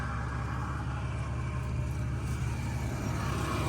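The engine of a Jeep XJ idles steadily with a low, even rumble and a slight rhythmic pulse, close and continuous for several seconds with no voices over it.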